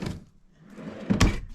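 A drawer in a Fleetwood Flair 29M motorhome is pulled or shut, giving a soft sliding rustle followed by a single solid thunk close by.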